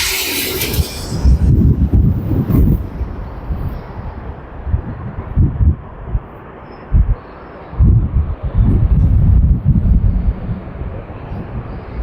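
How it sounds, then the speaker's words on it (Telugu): Strong sandstorm wind in Kuwait roars and buffets outdoors in loud, rumbling gusts that surge and ease over several seconds, with no voices. "గాలి భయంకరంగా ఉంది, ఇసుక తుఫాను."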